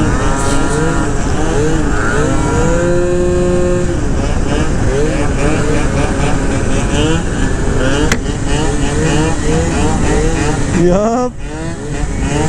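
A tuned Malaguti F12 70cc scooter engine revs hard and sustained, loud and close, with rising and falling pitch before it cuts out near the end. Someone briefly speaks over it.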